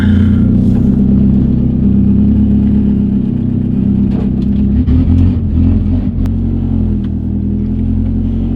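A Hyundai Genesis Coupe engine idles after warming up, producing a loud, close, continuous rumble that holds steady throughout with a slight wavering in tone.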